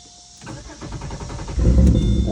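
A 2005 Chevy Malibu Maxx with a brand-new starter cranks with a rapid rhythmic churn for about a second, then the engine catches and fires into a loud, steady idle, close up with no talking.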